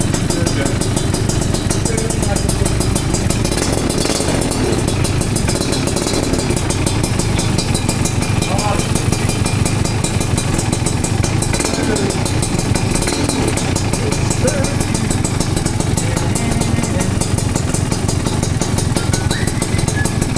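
A motorcycle being worked on in a workshop runs steadily at idle after starting, a loud, continuous close engine rumble that stays even throughout, with no talk over it.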